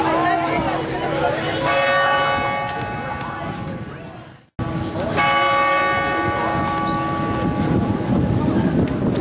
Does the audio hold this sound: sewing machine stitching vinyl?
no